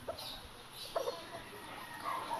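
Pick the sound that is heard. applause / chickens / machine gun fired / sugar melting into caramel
chickens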